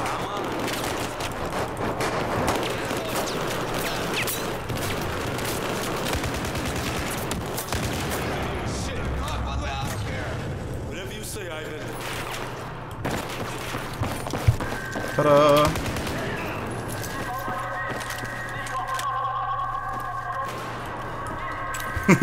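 SCAR assault rifle gunfire in Battlefield 4, bursts of shots scattered through a busy battle mix with other weapons and game effects, with a sharp cluster of shots around the middle and a voice talking at points.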